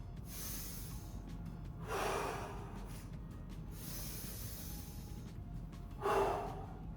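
Two slow, deep breaths during a stretching routine, each a soft airy inhale-exhale rising over a quiet room, spaced a few seconds apart, close and gentle with no talking.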